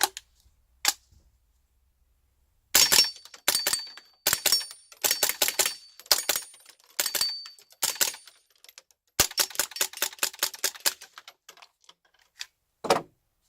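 A .22LR rifle fires subsonic rounds and cycles, giving sharp close cracks with metallic action clatter, in quick bursts and double taps separated by short silences.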